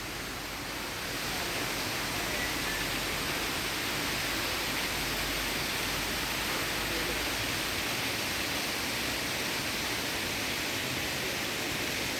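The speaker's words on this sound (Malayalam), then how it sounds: "നമ്മുടെ സ്ഥലത്തിൻ്റെ സെൻറ്ററിൽ കൂടെ തന്നെ ഒഴുകുന്ന ചെറിയൊരു തോടാണിത്" A small stream on farmland flows and rushes steadily, a constant broadband hiss that keeps going without pause.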